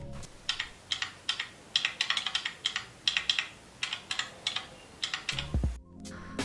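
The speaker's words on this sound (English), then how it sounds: "let me show you the sound of the keyboard" Quick light taps of typing on a phone's RGB keyboard app for Android come in an uneven stream of about twenty clicks, close and crisp, ending with a soft thump.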